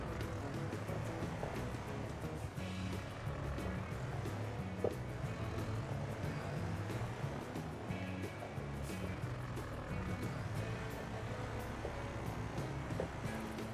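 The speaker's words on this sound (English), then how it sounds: "It's a lovely little tractor, this." A small, brand-new tractor engine running continuously in a farm setting, a steady low rumble with a broad, noisy texture that holds evenly throughout.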